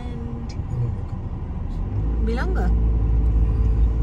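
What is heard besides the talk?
car driving on a road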